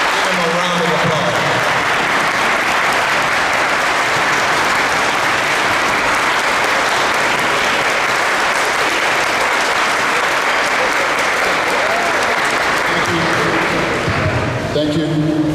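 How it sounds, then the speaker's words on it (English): Sustained, loud audience applause at a memorial highway dedication ceremony, steady clapping for about fourteen seconds before it fades and a voice begins. "Give him a round of applause."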